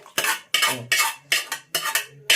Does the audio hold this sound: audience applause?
no